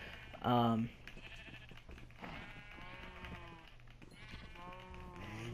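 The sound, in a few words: sheep bleating in Minecraft video game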